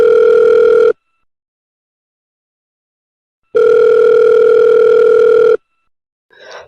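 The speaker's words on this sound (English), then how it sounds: "Ringing the police department." A telephone at a police department rings twice in a radio play with a steady electronic double tone, a long silent gap between the rings, then a faint brief noise at the end.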